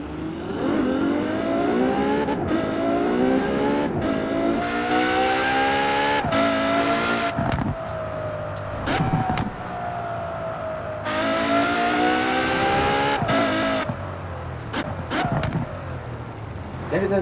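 KTM X-Bow GT4 racing in Forza Horizon 4, its engine revving hard and climbing through repeated shifts, with bursts of tire squeal and sharp cut-offs between pulls, loud and up close.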